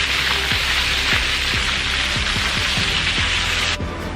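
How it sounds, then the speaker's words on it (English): Steady rain pours down during a storm in the woods, a dense unbroken hiss close by with faint low knocks scattered through it, then briefly softening near the end. "it's storming and raining and we're stuck behind in the woods"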